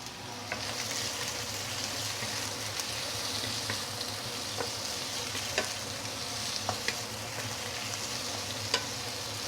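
Prawns fry in a pan with a steady, close sizzle and crackle, broken by occasional sharp spits and scrapes of stirring, and no voices.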